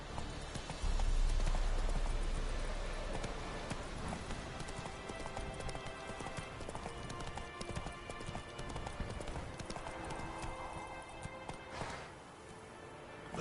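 Roach, a horse in The Witcher 3, gallops with a steady, rapid clip-clop of hooves that runs throughout at close range and thins out near the end.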